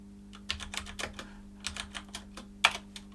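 Keys clatter on a computer keyboard as a terminal command is entered, in quick irregular bursts with short pauses and one sharper final stroke, close and fairly quiet over a faint steady hum.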